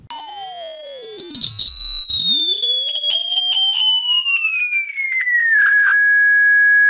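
Synthetic Doppler demonstration tone: a loud, steady electronic whine whose pitch glides gradually downward over about six seconds as the simulated source passes, then holds level, accompanied by faint sweeping overtones and no talking.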